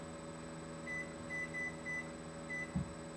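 A kitchen oven timer being set after meatloaf goes into the oven, giving a few short electronic beeps in an irregular run over a steady appliance hum, with no talking.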